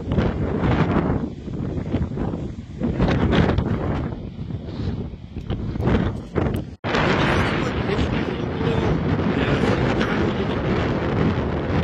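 Ocean waves crashing on a surfers' beach in southern Spain, a loud roaring wash of surf with heavy wind buffeting the microphone, swelling and surging continuously, with one brief dropout midway.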